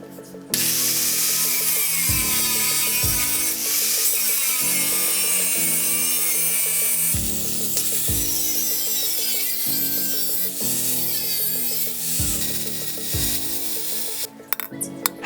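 A saw cuts 3/4-inch galvanized steel pipe with 2.5 mm walls into 40 mm lengths for a rope pump, the harsh rasping strokes repeating in a steady rhythm, close and fairly loud, with no talking.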